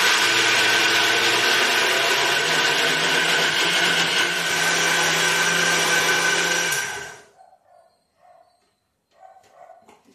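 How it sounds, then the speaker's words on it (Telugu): A mixer grinder churns pesarattu batter with ginger and green chillies, a loud, steady, close whirring grind lasting several seconds before cutting off, leaving a few faint knocks afterward. "వేసి మిక్సీ అయితే వేస్తున్నాను"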